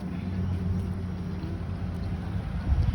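A 2003 Ford Ranger pickup engine idles with a steady, low rumbling drone that holds evenly throughout, with no talk over it.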